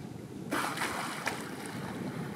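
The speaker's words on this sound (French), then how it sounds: "On entend le bruit des vagues au large qui cassent." Waves break offshore in the distance near a coast, a soft steady wash with a faint surge of breaking surf and light wind rumble, no voices.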